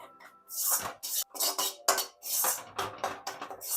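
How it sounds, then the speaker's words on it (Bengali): Spatula clinks and scrapes against a pan while maida flour is dry-fried until reddish, in irregular clattering bursts with short pauses, close and moderately loud, no talking. "আমি ময়দাটাকে লাল লাল করে ভালো করে ভেজে নিচ্ছি।"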